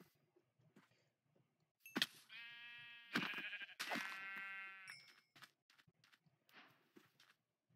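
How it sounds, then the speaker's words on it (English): Sheep in Minecraft give a few short nasal bleats close by, clustered in the middle with gaps between, alongside a few soft thumps and quiet game sounds. "let us kill these sheep"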